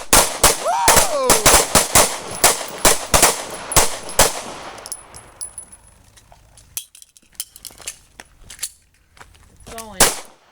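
Pistol gunfire on an outdoor shooting range during a combat pistol accuracy and threat-response drill: a rapid string of sharp, loud shots, then a pause and a few scattered shots, with brief shouted voices between.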